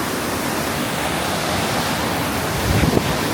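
The Mississippi River rushes loudly and powerfully, a dense unbroken roar of moving water close by, with a little wind buffeting near the end and no voices.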